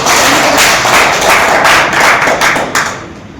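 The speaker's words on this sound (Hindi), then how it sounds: "एक बार तालियों से स्वागत करिए" Audience applause welcoming a crop nutrient product at an agriculture company's field event, a steady wash of many hands clapping loudly that fades out at the end, with no talking.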